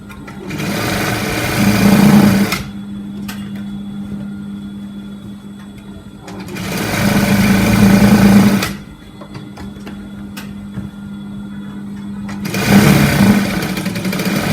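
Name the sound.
sewing machine stitching a sleeve to an armhole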